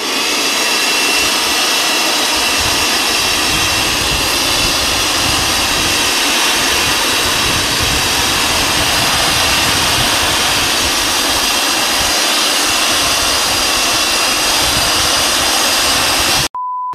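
A cordless battery-powered blower runs at full power, producing a loud, jet-like whooshing roar that stays constant for about sixteen seconds before cutting off abruptly, followed by a brief electronic beep.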